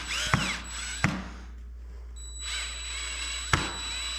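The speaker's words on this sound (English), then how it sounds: "So I line up the holes on the top, and these screws are self-tapping type screws, but I do not recommend over tightening." Self-tapping screws driven into a Cycra handguard on a 2021 KTM 300 XC, a power-driver whir in two short bursts with sharp clicks, then another longer run ending in a click, close and fairly quiet.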